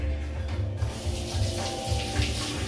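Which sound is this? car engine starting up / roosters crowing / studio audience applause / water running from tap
water running from tap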